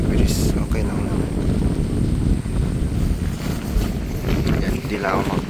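Strong wind roars steadily across an outdoor microphone at a campsite at sunrise, a continuous low rumble and buffeting with no letup.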